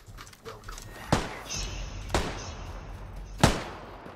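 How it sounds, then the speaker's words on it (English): Three sharp gunshots from PUBG's Erangel map, fired at a vehicle's tires, land about a second apart as loud broadband cracks over a low game background, with a faint voice early on. "Shooting tires. Yeah, I'll just shoot a vehicle."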